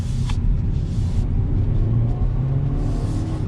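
A 2020 BMW 228i Gran Coupe driving and turning, a steady low engine drone and road rumble heard from inside the car, loud and continuous with a slight rise in tone.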